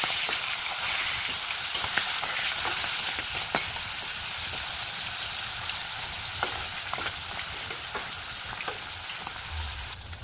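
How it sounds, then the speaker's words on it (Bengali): Amla fish frying lightly in hot oil, a steady dense sizzle that fills the scene throughout, with occasional soft taps and crackles from the pan; no one speaks. "মাছের এক সাইড হালকা করে ভাজবো।"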